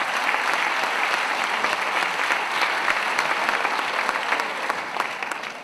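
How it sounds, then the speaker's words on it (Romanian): A large crowd at a women's party conference applauds steadily and loudly during a vote by applause, a dense continuous wash of clapping that holds throughout. "S-a votat prin aplauze."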